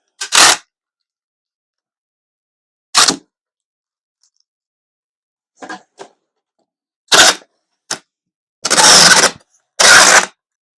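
A loud tape gun sealing a cardboard shipping package, heard as several sharp, screeching pulls of tape in separate bursts with silent gaps between them, close by.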